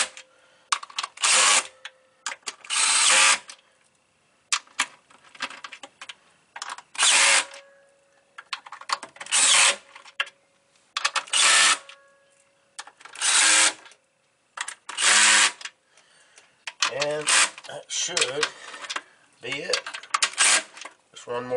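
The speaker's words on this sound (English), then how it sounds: "I've got my clutch set on my DEWALT." A DeWalt drill with its clutch set drives intake plenum bolts on a 2005 Mazda Tribute / Ford Escape 3.0L V6, giving a close series of short, loud whirring bursts separated by brief pauses.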